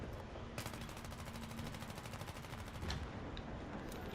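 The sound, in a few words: M4A1 rifle gunfire in the video game Battlefield 3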